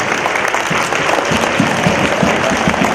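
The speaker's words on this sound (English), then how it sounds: "let's give them a round of applause" Enthusiastic audience applause at an elementary school Veterans Day assembly, a thick, loud, continuous clapping from a large crowd of children and adults, sustained throughout.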